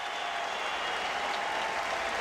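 Steady applause from a baseball stadium crowd at a 2008 Rays vs Red Sox game, filling the whole stretch evenly at a moderate, somewhat distant level with no talk over it.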